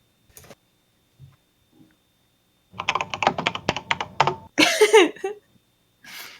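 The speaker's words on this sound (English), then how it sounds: "I can hear you typing?" Quick, clattering taps on a computer keyboard come in a short, dense flurry, set among quiet pauses, a few isolated clicks and a brief throat-clearing sound.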